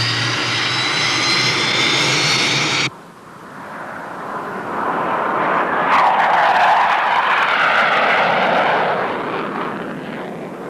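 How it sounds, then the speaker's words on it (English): Specially equipped NASA jet aircraft flying overhead, a loud sustained engine roar that swells and fades over several seconds, preceded by a brief burst of unrelated sound that cuts off abruptly. "A specially equipped NASA jet allows us to see some of its most striking features from the air."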